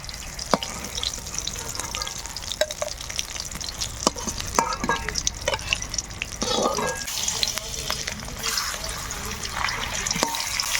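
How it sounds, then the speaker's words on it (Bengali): Rui fish pieces fry steadily in hot oil, a continuous close sizzle with crackling pops and occasional stirring clinks throughout. "বাকি মাছগুলো ভাজা হতে থাক"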